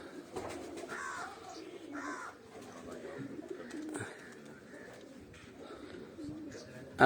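English pigeons coo in a loft, soft throaty calls repeating at intervals over a low, busy background, close by and moderately loud.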